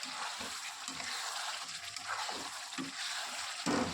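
Chicken being stirred in a pan with homemade shahi garam masala, giving a soft, steady sizzle with faint scraping strokes, quiet and close.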